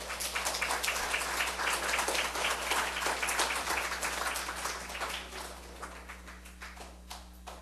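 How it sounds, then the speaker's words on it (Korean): A church congregation applauds to welcome a visiting professor, steady rapid clapping that gradually thins and fades, over a constant low electrical hum. "교수님 나와 주실 때에 여러분 박수로 환영해 주시기를 바랍니다."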